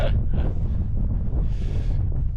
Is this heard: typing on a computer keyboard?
no